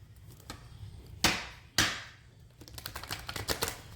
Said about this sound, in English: This is the first shuffle.